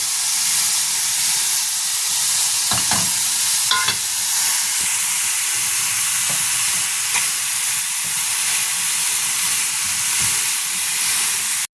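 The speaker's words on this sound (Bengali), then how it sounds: "সব মশলা দিয়ে কষছি" Chicken with turmeric, cumin, coriander, garam masala and chilli powder stir-fries in a pan, a loud continuous sizzling hiss with intermittent scraping strokes of a spatula, no voices.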